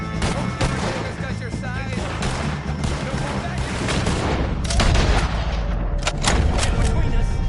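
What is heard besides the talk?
gunfire at O'Driscolls in Red Dead Redemption 2 video game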